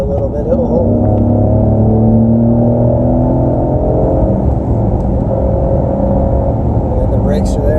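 A 2020 Ford Explorer ST engine revs up and pulls harder as the SUV accelerates, a loud steady drone rising in pitch, heard from inside.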